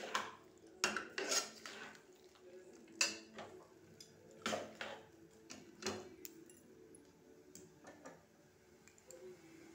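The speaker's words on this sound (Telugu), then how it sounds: "ఇలా టోటల్గా మొత్తం కలిపేసుకోవాలన్నమాట" A utensil scrapes and clinks against a pan while tomato curry is stirred, with irregular metallic taps and scraping strokes spread across the clip, fairly close and moderate in level, with no talking.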